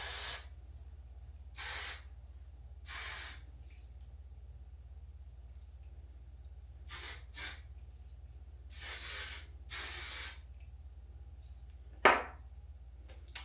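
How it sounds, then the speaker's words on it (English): Got2b hairspray is sprayed onto a wig cap in short, loud hissing bursts, about six of them spaced irregularly through a quiet room, with a brief clatter near the end. "spray a little Gots to Be so I can see and so my"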